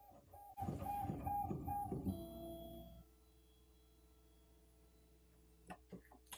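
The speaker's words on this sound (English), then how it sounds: "the pen plotter is extremely fast" iDraw 2.0 A3 pen plotter drawing at high speed, a rapid whirring and buzzing of fast moves for a couple of seconds, then a faint hum with a few sharp taps near the end.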